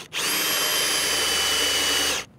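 Power drill boring plug holes in a boat's teak deck, one steady high whine lasting about two seconds, close and loud, starting and stopping abruptly.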